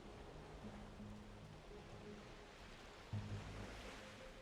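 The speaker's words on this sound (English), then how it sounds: "Yeah, I can hear ocean waves here." Steady, soft wash of ocean surf rolling in the Valheim video game world, a faint continuous rush with low rumbling undertones and a brief swell near the end, with no voices.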